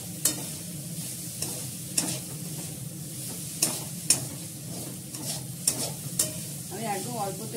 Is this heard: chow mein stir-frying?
yes